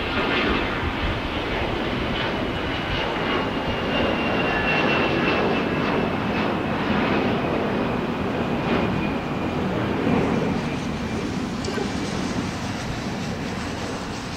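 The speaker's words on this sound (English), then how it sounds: "we are also looking at the arrival of Finnair From Helsinki." A Finnair jet airliner arriving from Helsinki at Los Angeles International Airport gives a steady, loud engine roar and whine that holds for the whole stretch with a faint high tone running through it.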